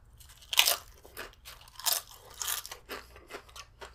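Close crunching and chewing of salty tortilla chips eaten with a burrito bowl, irregular crisp bites and crackles over a low hum, with no talking.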